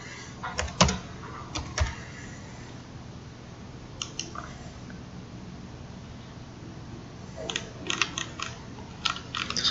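Typing on a CNC machine control keyboard to enter a tool change in MDI mode: short clusters of close, crisp key presses separated by quiet pauses over a low workshop hum, with no voices.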